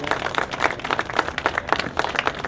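Applause at a Louisiana tall ships press conference honoring the Delgado maritime center, a moderate crowd clapping steadily at close range with no talking over it.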